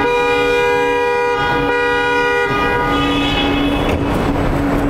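A new car at a Chinese car factory sounds its horn in a long, loud, steady tone that then cuts off, with factory background noise behind it.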